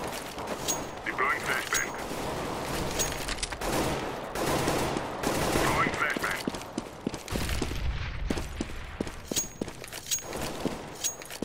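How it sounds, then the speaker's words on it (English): Rapid gunfire from the video game CS:GO, bursts of shots crackling over a steady dense game background, with a person talking throughout. "I don't know why he just shot him."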